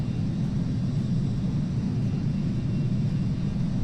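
Embraer E-195 jet engines heard from inside the cabin during a flight simulator flight: a steady, muffled low rumble with a faint high whine, continuous and unchanging throughout.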